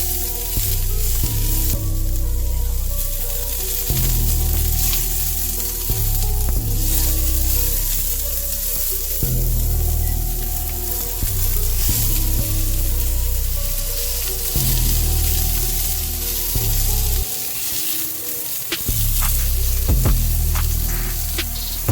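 Jackfruit frying in a cast iron pan over medium heat, a loud, constant sizzle with crackles and pops, plus a low droning hum underneath, lasting over twenty seconds with no one talking.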